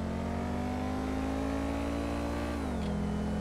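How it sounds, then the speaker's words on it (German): Porsche 918 Spyder in GTA 5 holds a steady, droning engine tone with a faint high turbo whine above it, both dipping in pitch near the end as the revs drop. "Man hört schön den Turbo fiepen."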